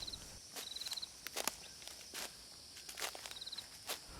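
Footsteps of someone carrying a heavy bucket toward a pig pen, a series of soft crunching steps at an uneven pace over a quiet night background with faint chirping insects.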